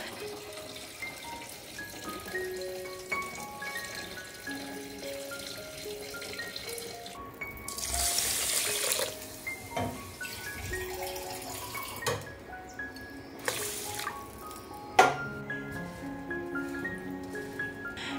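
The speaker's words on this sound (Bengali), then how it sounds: "এরকমভাবে আমি চালটাকে ভালো করে ধুয়ে" Rice being washed for biryani under a running kitchen tap, with water streaming and splashing, bursts of louder gushing and sloshing grains, and drips and clinks in between, close and without talk.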